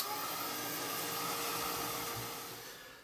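A hair dryer-style heat tool blasts paint dry on a grungy art journal page, a steady, loud, close whooshing whir that holds even and then eases off slightly at the end.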